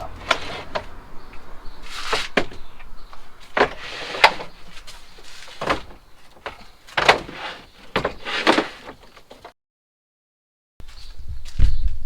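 A heavy 26mm plywood storage drawer in a VW T4 van is pulled out with a series of wooden knocks, scrapes and sliding thuds. The sounds come in bursts, stop in silence for a moment, then resume.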